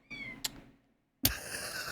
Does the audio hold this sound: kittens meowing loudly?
yes